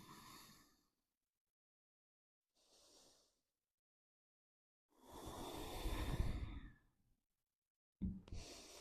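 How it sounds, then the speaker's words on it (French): Deep nasal breaths during a Kundalini yoga session, a few separate inhales and exhales with quiet gaps, one long strong breath in the middle, close and fairly soft. "Faites des respirations profondes, toujours par le nez."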